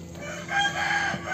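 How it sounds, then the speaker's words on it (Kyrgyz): A young rooster crows once at a busy poultry market in Osh Bazaar, Bishkek, its call rising and holding for about a second over a steady crowd murmur. "Жаш короздан экен."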